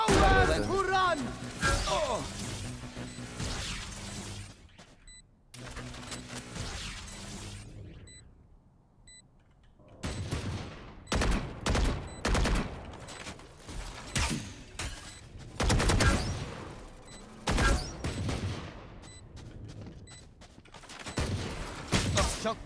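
Gunfire in the tactical shooter Valorant, a Sova player's round: sharp bursts and single shots crack loud and close amid game sound effects and announcer-style voices, with a quiet lull in the middle.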